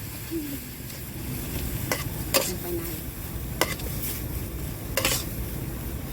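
Broccoli and noodles sizzle steadily in a hot wok at a market stall as a metal utensil scrapes and clanks against it several times, with faint voices in the background.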